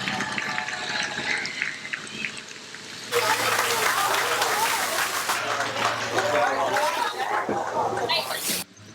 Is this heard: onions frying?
no